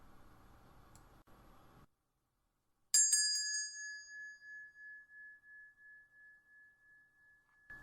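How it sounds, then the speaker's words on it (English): A small meditation bell is struck once after a brief silence, its clear bright tone ringing out and slowly decaying over several seconds in a quiet room. "Our time will begin with the sound of a small bell, and will end with the sound of a small bell."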